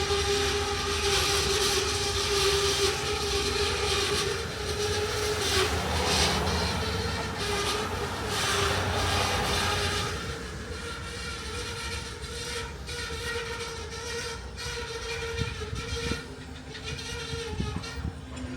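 A freight train of ballast cars rumbles past a road crossing, loud and steady with metallic wheel squeal and clanking joints, easing off slightly after the first half as the cars keep rolling.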